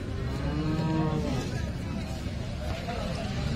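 A cow lowing at a busy cattle market in Sangola, Maharashtra, one drawn-out moo close by, with crowd chatter and people talking throughout.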